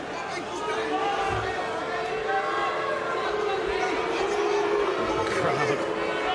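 An arena crowd at a PFL MMA fight keeps up a steady, broad wash of murmuring and restless booing during a grappling exchange, with commentary talk running over it throughout.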